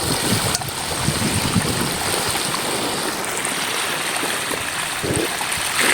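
Water rushes forcefully from a hose in a steady, loud gush, a continuous hissing stream with no pauses and no voices.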